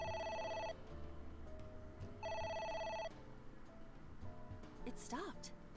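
Two electronic ring bursts from a phone in the video game AI: The Somnium Files trill over soft game music, then stop, followed by a brief sweeping effect near the end.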